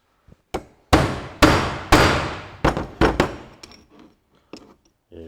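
A hammer knocks on a Ferguson TE20 tractor distributor part while a bearing is being pulled off: about eight sharp, close metallic blows in an irregular rhythm, each ringing briefly and fading, with a couple of lighter taps at the end.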